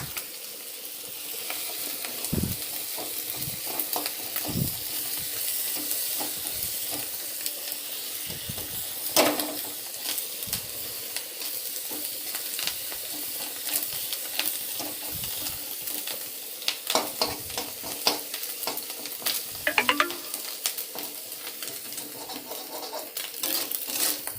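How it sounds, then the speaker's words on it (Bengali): Curry bubbling in a pan with green chillies added, a continuous sizzle and simmer broken by scattered clinks and scrapes of a utensil against the pan. "ওদিকে তরকারি ফুটে উঠেছে দুটো কাঁচা লঙ্কাও দিয়ে দিই"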